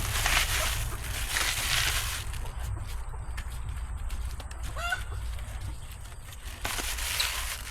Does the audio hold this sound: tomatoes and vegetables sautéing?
no